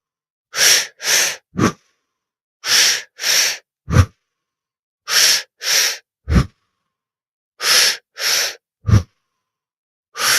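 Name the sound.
deep breathing during breathing exercise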